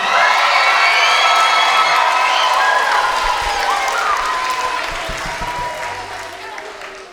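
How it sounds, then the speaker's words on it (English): Children at a school evening performance give a loud, sustained cheer for their school, a dense crowd of shouts and whoops mixed with clapping that holds steady and then slowly fades toward the end. "When I call out your school, give us a big cheer."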